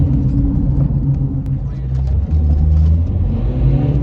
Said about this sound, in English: That's that high rev in first gear.